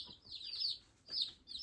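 Newly hatched American Bresse chicks peep in high, repeated chirps, a run of overlapping calls followed by a pause and another burst, fairly close and alone.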